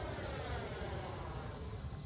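Freewing Avanti S V2 80mm electric ducted fan sport jet at full throttle climbing straight up, a loud steady high-pitched whine and rushing roar that holds constant throughout, with a faint tone sliding downward near the end.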